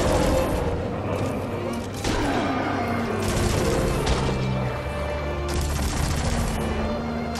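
Sustained gunfire from a gun in the video game Destiny 2 (PS4) rattles loudly in repeated bursts over a dense battle din, with booming impacts mixed in.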